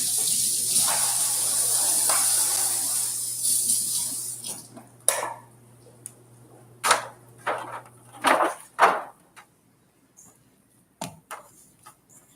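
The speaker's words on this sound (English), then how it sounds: "Gonna add a little bit of water to my pan." Water poured or running into a cooking pan during home dinner prep, a steady splashing hiss for about four seconds, then scattered clinks, taps and brief splashes from the pan and utensils nearby, with no talk.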